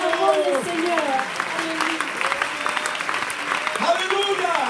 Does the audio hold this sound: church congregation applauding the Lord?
yes